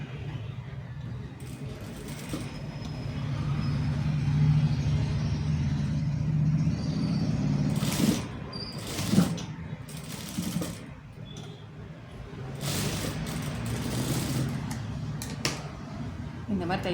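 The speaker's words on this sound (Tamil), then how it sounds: "மேலே வச்சுட்டு அந்த ஸ்டிச்சிங் மேலேயே தையல் போட்டுருங்க." A sewing machine stitches a blouse sleeve with a steady low motor hum and needle patter, running for long stretches under someone talking throughout.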